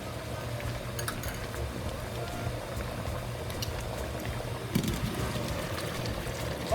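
A pot of okazi and ukpo soup with meat at a steady boil, continuous bubbling and simmering close by, with a brief clink partway through and no talk.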